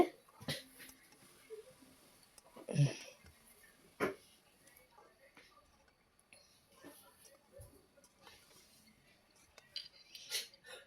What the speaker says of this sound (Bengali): ঢাকনা কিছুক্ষণ পরে সরিয়ে নিচ্ছি, নিয়ে আবারও নেড়ে চেড়ে দিচ্ছি